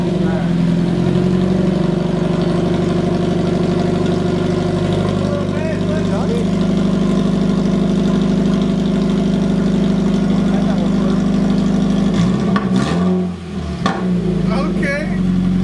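A Scion FR-S with a loud aftermarket front pipe idles in a steady, droning rumble, with a brief disturbance near the end as people talk over it.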